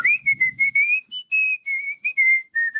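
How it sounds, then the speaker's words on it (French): A recording of whistling played at an atheist ceremony: a clear, close solo whistled tune of short, repeated, bright notes with gaps between phrases, heard alone. "un enregistrement où on siffle"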